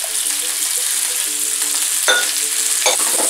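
Halved cherry tomatoes, desalted capers and black olives fry over high heat in a pan, a loud, close, continuous sizzle with a few stirring scrapes and no talk.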